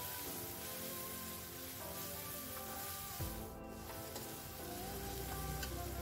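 Fermented soybean paste (tauco), about three tablespoons, sizzles steadily in a hot frying pan, with a continuous crackling hiss and occasional stirring scrapes throughout, no voices.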